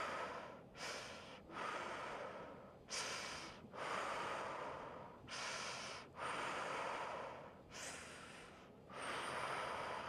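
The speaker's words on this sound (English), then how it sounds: "Breathe in through the mouth and out." Slow, deep breaths are drawn in through the mouth and let out again, about five airy cycles in a steady rhythm, close and clear with no other sound.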